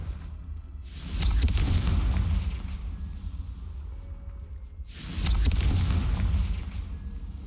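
Confringo fire spell explosions in the video game Hogwarts Legacy: two deep, booming blasts a few seconds apart, each rumbling loudly for about two seconds before fading, with no talking.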